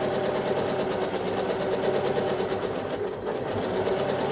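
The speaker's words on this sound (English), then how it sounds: "we're going to stitch both of these designs again completely freehand" A sewing machine runs steadily while free-motion stitching a quilt, a close, continuous mechanical whir with fine rapid needle rhythm that dips briefly near the end before resuming.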